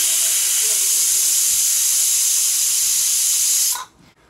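A pressure cooker vents a loud, continuous hiss of steam while cooking mutton kola kuzhambu, holding steady for several seconds before cutting off abruptly.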